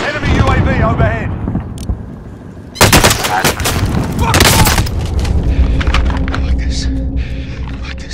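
Call of Duty: Modern Warfare gunfire: loud, rapid automatic bursts crack out in the middle of the clip over constant battle noise, with a voice talking near the start.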